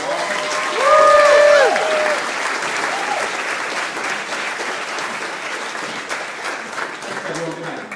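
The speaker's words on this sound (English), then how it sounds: "Let's hear a round of applause for our panelists." An audience claps steadily in sustained applause, with a short electronic chime near the start and a murmur of voices.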